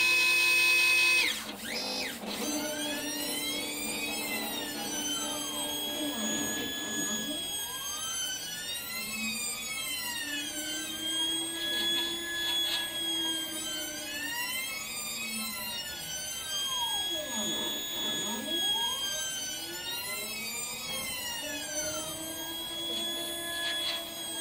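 A Dyna 2400 CNC mill cutting a 2.5-inch circular pocket a quarter inch deep gives a continuous high whine whose pitch sweeps up and down in a repeating cycle, steady and fairly loud after a sharp start, without talking.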